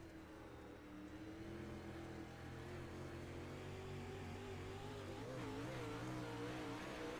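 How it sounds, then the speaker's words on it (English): A dirt-track race car engine drones steadily at high revs with a wavering pitch, the roar shifting slightly as the car goes briefly airborne over bumps on the front stretch. "you hear that car getting a little bit airborne there as they go through the bumps on the front stretch"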